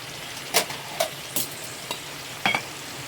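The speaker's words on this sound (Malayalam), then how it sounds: "നന്നായിട്ടൊന്ന് വഴണ്ട് വരട്ടെ ഈ മസാല" A ground masala of tomato, ginger, pepper and garlic sautés in a pan, with a soft, steady sizzle broken by several sharp spoon scrapes and taps against the metal.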